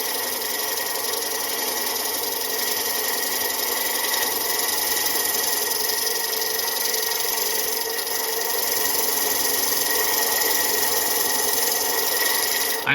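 A vertical intarsia grinder trims a piece of stone, giving a steady, continuous abrasive whir with a motor hum underneath that holds at an even, fairly loud level throughout, with no talking.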